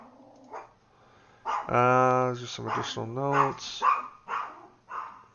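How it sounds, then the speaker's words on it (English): A dog barks in a home office setting, a run of several loud close yips and barks mixed over a man's ongoing speech. "Sorry about my dog there."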